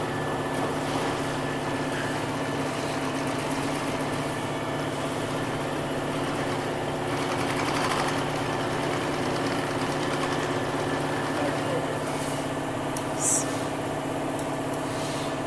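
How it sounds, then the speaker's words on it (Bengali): Machines in a shoe factory running while stitching shoes, a steady mechanical drone and hum holding constant at moderate loudness throughout, with a faint voice underneath. "মেশিনের দ্বারা প্রত্যেকটা জুতা সেলাই করা হয় একদম নিখুঁতভাবে সেলাই করা হয়"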